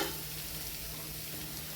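Coriander leaves sautéing in a hot pan for a tomato bhaji give off a steady, loud, close sizzle with a constant frying hiss, and no one speaks.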